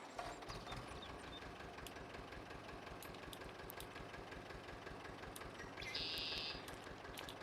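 A tractor engine idles on a Polish farm, a faint, steady rhythmic chugging that goes on evenly with no speech over it.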